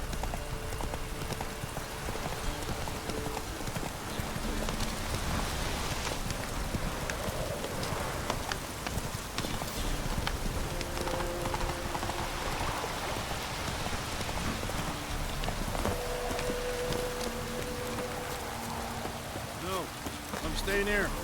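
Roach, a horse in The Witcher 3 video game, gallops through rain with steady clip-clop hoofbeats over constant rainfall hiss, close and continuous.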